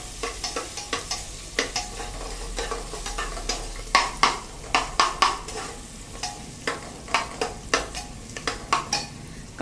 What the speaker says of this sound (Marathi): कांदा छान परतवून घेऊया